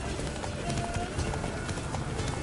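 Roach, Geralt's horse in The Witcher 3, gallops with a steady clip-clop of hooves at close range, mixed into continuous game ambience and music with no clear talk.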